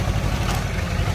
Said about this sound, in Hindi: मजे में खेच रहा ट्रैक्टर